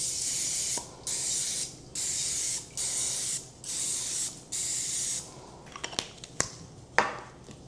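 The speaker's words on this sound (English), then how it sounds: "what we're going to do is spray our muffin tin" Cooking spray hisses onto a muffin tin in six or seven short, even bursts close to the microphone, followed by a few light metallic clicks and taps as the can and tin are handled.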